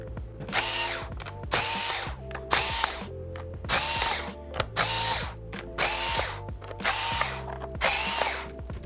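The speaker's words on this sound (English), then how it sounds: "So you can start that by loosening up the screws in the bottom cover." A powered screwdriver loosens the screws on the bottom cover of a Lenovo 100E G3 Chromebook, heard as seven or eight short, evenly spaced whirring bursts, close and clear with brief pauses between them.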